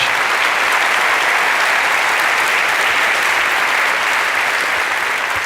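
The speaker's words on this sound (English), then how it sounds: "another round of applause" A live audience at an onstage conversation event gives a sustained round of applause, a loud, dense, even wash of many clapping hands filling the whole stretch without a break.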